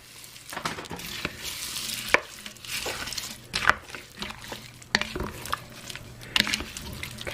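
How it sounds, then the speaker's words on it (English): Vegetables tumble into a pot of turkey stew for pot pie filling, with soft sizzling, wet stirring and a few sharp clinks of a utensil against the pot. "So now I'm going to add all these vegetables into"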